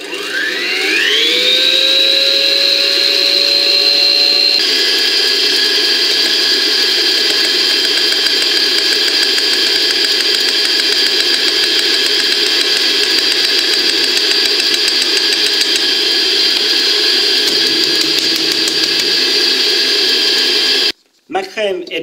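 An electric mixer whips cream with icing sugar into chantilly: the motor spins up with a rising whine, then holds a loud, steady, high-pitched drone for about twenty seconds before briefly cutting out near the end.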